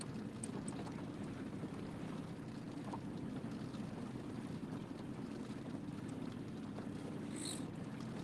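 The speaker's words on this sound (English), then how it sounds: "Wind wasn't supposed to be blowing tonight, but it is." Steady wind rushing over open water at night from a fishing boat on a crappie outing, a constant broad low roar with buffeting against the microphone, continuous and fairly close, with no talking.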